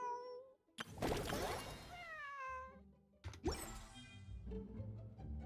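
Several cats meow in a video game, a clear loud meow near the start followed by two longer drawn-out meows with rising and falling pitch, and a soft thump between them.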